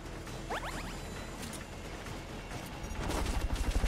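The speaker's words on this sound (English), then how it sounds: "He's been shooting at me the whole time" Gunfire in the video game Metal Gear Solid: Peace Walker, a brisk burst of mechanical shots and clicks early on, then a louder rapid string of pulsed shots near the end, with no talk.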